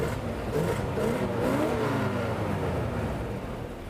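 A 1958 Chevrolet Corvette C1 convertible with a 4.6-litre, 230 hp engine revs close by, a deep rising and falling engine note held steady for a few seconds with no talk.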